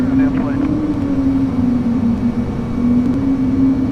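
An Australian Wings airliner taxiing to gate Papa 6 via taxiway Bravo, heard as a steady, loud engine drone and hum that holds evenly throughout with no breaks.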